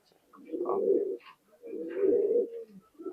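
Pigeons coo in a loft of Pakistani high-flying birds, two long, full coos close by with a short start of a third at the end, and no talking.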